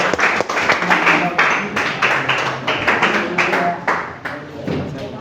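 A classroom audience applauds, with dense, steady clapping that fills the room at a strong level and carries on without pause, with a bit of voice blending into the clapping.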